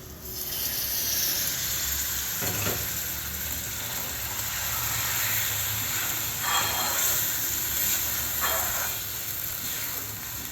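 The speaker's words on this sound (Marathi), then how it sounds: "आपण थोडा स्टॉक टाकूया याच्यामध्ये" Mutton sizzling in a pan as stock is added: a steady broadband hiss and sputter that holds throughout, with a few brief crackling swells.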